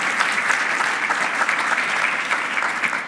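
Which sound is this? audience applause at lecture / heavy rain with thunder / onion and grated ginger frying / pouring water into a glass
audience applause at lecture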